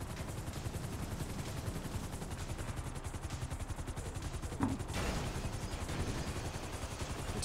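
Sustained rapid gunfire in GTA V Online, a dense continuous rattle of automatic shots with a sharp burst near the middle, loud and steady throughout.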